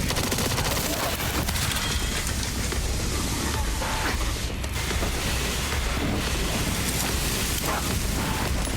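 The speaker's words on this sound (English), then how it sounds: "I think that was a regular grenade." A grenade goes off in the video game Resident Evil Requiem amid continuous loud, dense gunfire and mechanical clatter, the blast buried in a constant wall of noise.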